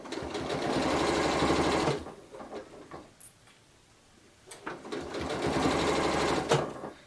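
A sewing machine back stitches fabric in two close, rapid bursts of rhythmic whirring needle action separated by a quiet pause.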